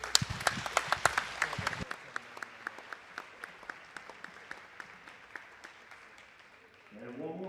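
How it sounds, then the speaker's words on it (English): In a school gym, a crowd applauds senior girls basketball players after a game against East Peoria. Dense clapping at the start thins to scattered individual claps, and a voice speaks at the very end. "Round of applause for our great Lady Irish Senior Girls Basketball"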